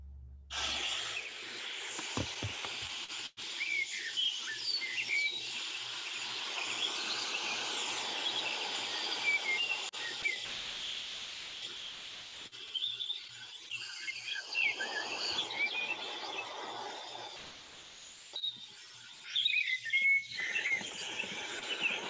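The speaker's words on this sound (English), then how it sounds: "some waves and birdsong" Soft, washing surf rolls in the background while birds chirp and call intermittently, fairly faint, with a few brief pauses.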